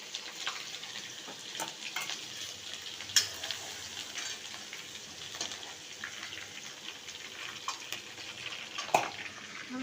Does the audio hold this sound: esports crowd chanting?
no